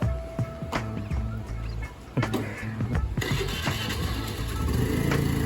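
A scooty ridden by a learner carrying a passenger, its small engine puttering and revving in uneven bursts close by, with outdoor background noise and occasional voices.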